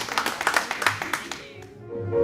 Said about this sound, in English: How about a round of applause for our battery girl?